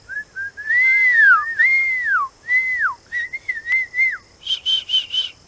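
A person whistles a series of sliding, bird-like notes, rising and falling, then a few short repeated chirps, clear and close with no talking; in Jerome Cemetery, Jerome, Indiana.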